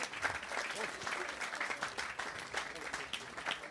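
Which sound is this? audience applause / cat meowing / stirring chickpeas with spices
audience applause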